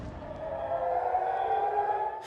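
Air raid siren over the port city of Haifa, Israel at night, a sustained wailing tone that rises slightly and holds, moderately faint and distant.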